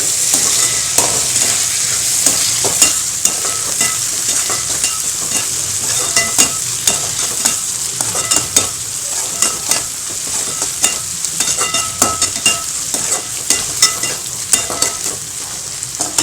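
Dried anchovy fish being sautéed in a pan, with a loud continuous sizzle and frequent sharp scraping strokes of a spatula throughout.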